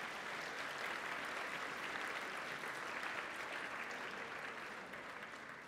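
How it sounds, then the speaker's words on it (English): Applause at a Catholic college school assembly for the Year 9 debating representatives, a dense sustained clapping from a large audience in a hall, steady and then slowly fading toward the end. "Please give a round of applause to our Year 9 representatives."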